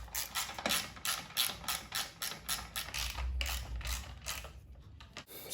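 A 10 mm socket wrench works at rusted M6 screws on the radiator fan of a 1999 Maruti Zen, a rapid run of close ratcheting clicks with a brief pause near the end.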